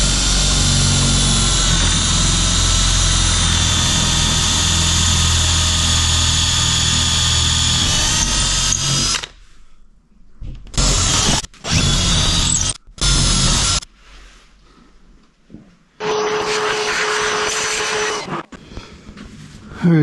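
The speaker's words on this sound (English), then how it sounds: "we're going to drill a 5/16 hole all the way through" Power drill boring a 5/16-inch hole all the way through a barn door bracket, first as a long, steady, loud whine, then as several short bursts of trigger pulls with brief gaps between them.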